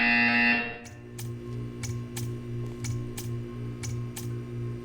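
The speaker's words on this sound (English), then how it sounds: "You will hear a buzzer." Buzzer in the video game Portal 2: a short loud tone cuts off, then a steady hum carries a regular series of sharp clicking pulses, about eight evenly spaced, with no talking.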